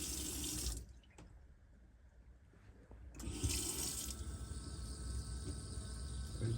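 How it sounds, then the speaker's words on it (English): Water runs steadily from a caravan tap, a broad hiss that drops quieter for a couple of seconds in the middle, then surges back strongly and keeps flowing to the end. "You can see the water's flowing nicely now."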